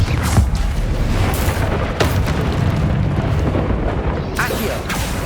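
Booming spell explosions and bursts in the Hogwarts Legacy video game, several heavy blasts in a row over a dense, continuous rumble of battle sound.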